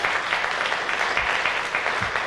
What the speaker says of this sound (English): Can we give a round of applause for our candidates for participating?